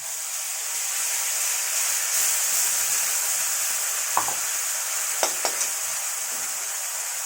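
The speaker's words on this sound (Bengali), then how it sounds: "মিক্সচারে মশলা বেটে রেখেছি জিরে আদা লঙ্কা রসুন পেঁয়াজ দিয়ে দিলাম" Ground paste of cumin, ginger, chilli, garlic and onion frying in hot oil for a fish curry, a loud, close, continuous hissing sizzle with a few sharp spatters and light stirring taps.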